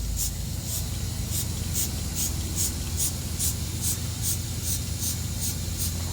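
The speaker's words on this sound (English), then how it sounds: "Pretty good spray pattern." Eagle One wheel and tire cleaner sprayed from a trigger bottle in roughly a dozen quick, evenly spaced bursts of hissing mist, close and clear over a steady low background rumble.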